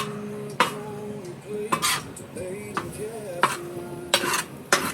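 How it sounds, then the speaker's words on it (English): Jambalaya with shrimp and a bay leaf is stirred in a Matador pan on a Recteq Bullseye Deluxe grill, giving repeated sharp scraping clanks of a utensil against the pan roughly every second over a low background hum. "And stir all this together here."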